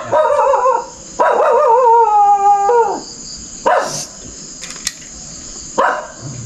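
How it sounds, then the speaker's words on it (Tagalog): A dog howls and yips at a public cemetery in Lumbia, Cagayan de Oro, in several drawn-out, wavering bursts with short gaps between them, fairly close and loud, and no talking. "May aso nga doon."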